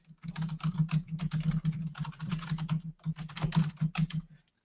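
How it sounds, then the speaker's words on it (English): Rapid, uneven keystrokes clatter on a computer keyboard while a blog post is typed, close and clear in bursts with short pauses, no voice present. "I'm going to start typing my content."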